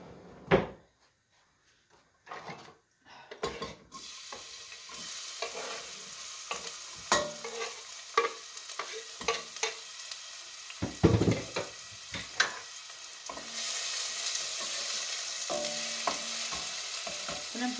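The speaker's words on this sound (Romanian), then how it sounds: "Pun puțin ulei. Nu mult. Foarte puțin. Ca să dinstuim puțin ceapa." Finely chopped onion sautés in a small amount of oil for a quick cheese-dumpling soup, giving a steady sizzle that swells later. Stirring scrapes and kitchen cupboard or drawer knocks come and go in the foreground.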